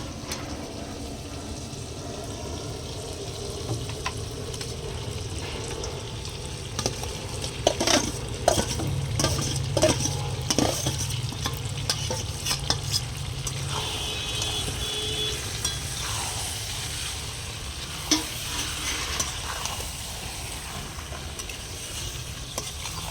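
Marinated goat meat tipped into hot spice masala that has released its oil, sizzling steadily with stirring and scraping throughout, a few louder clattering bursts in the middle, no talking.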